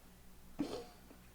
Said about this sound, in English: Sorry, the dog made a noise.